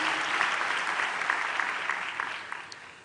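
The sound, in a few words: graduating students applauding at a graduation ceremony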